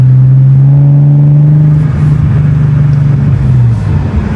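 A loud Ford Mustang EcoBoost with an illegally loud exhaust booms up close in one sustained rev, its deep drone sliding lower over a few seconds into a rough, rumbling fall-off.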